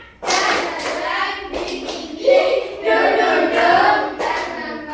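A school class claps together in a rhythmic cheering pattern in a classroom, the group's claps mixed with children's voices and a teacher talking over them.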